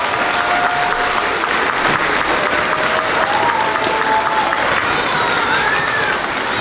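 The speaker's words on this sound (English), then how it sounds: "Let's give all our boys and girls a huge round of applause." Sustained applause from a big audience at the close of a 5th grade moving-up ceremony, a dense, even wash of clapping with scattered whoops and whistles.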